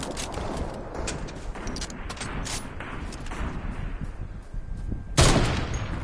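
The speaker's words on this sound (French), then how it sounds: "Il tire toutes les balles." Continuous crackling gunfire and impacts in a PS4 shooting game, a dense steady barrage ending in a sharp louder blast near the end.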